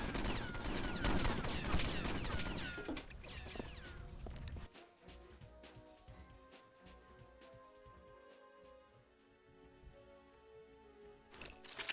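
Gunfire in James Bond 007 Nightfire, a dense burst of rapid shots at first, then sparse scattered single shots and clatters over a quieter game backdrop.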